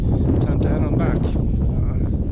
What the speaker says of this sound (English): Wind's picked up even more. It blows in the afternoon.